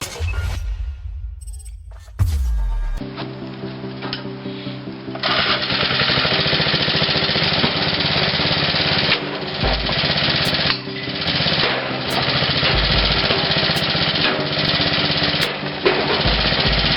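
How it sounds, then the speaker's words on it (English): A homemade gas-powered firewood splitter built from old parts runs loud and steady, its small engine chugging with rapid mechanical pulsing that continues throughout, broken by brief dips and a few sharp clanks. "This homemade splitter, called the det wheel, was built from old parts but works surprisingly well."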